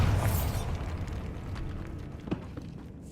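A Bombarda blasting spell detonates in a tomb in the Hogwarts Legacy video game, opening with a heavy boom that rolls into rumbling debris and a sharp crack partway through.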